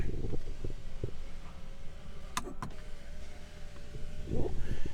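Power sliding rear window on a white 2019 GMC Sierra 1500 SLT crew cab, a steady electric motor whir running nearly five seconds indoors, with a couple of brief clicks midway.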